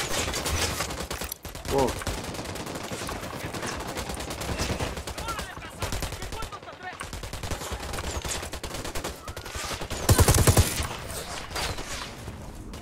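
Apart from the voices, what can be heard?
gunfire from the video game Tom Clancy's Wildlands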